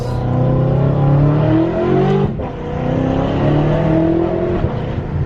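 A BMW F10 M5 with its S63TU V8 running a straight-piped exhaust drones loudly and close, its pitch climbing and settling through revs, with a brief dip midway before the rough, throaty tone resumes.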